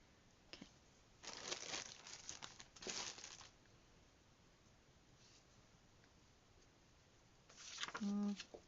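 Thick paper handled during junk journaling, with a few short bursts of crinkling and tearing spread across the clip, close and fairly quiet, and a brief voice near the end.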